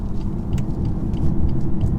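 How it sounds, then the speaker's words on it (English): Low, steady rumble of a 2018 BMW 430d coupe's diesel engine while driving, a constant near drone with road noise and no voices. "It's a diesel, you know what it sounds like."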